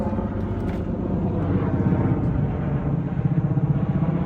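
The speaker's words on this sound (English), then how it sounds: "got a helicopter overhead" A helicopter flies low overhead, producing a steady engine rumble with a rapid rotor chop that grows more pronounced over a few seconds.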